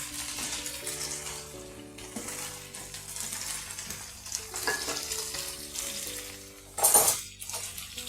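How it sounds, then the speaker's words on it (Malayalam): Chicken sautéing with curry leaves in a pan: a steady frying sizzle with stirring scrapes throughout, and a sharper metallic clatter near the end, with faint music-like tones beneath. "കറിവേപ്പില, ചിക്കൻ നമുക്ക് നല്ലോണം ഒന്ന് വഴറ്റിയെടുക്കാം"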